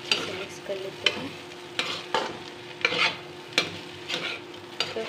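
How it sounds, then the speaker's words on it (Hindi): Potato and pointed gourd stir-fry being stirred in a pan, a series of close, crisp spatula scrapes and taps in a loose rhythm over a low, constant sizzle. "आलू और परवल दोनों हो गए हैं, और हम इसको अच्छे से मिक्स कर लेते हैं"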